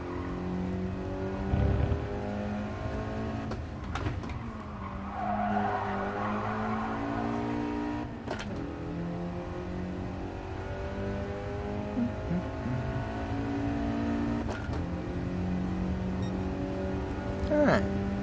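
A race car in GT Sport drones steadily with a layered engine tone that rises and falls through gear changes, tire squeal and skidding surfacing along the way, with a person talking over it at times.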